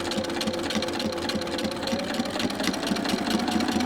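A sewing machine stitches an applique piece onto a hexagon quilt block, its fast, steady mechanical whirring running loud and continuous throughout with no voices.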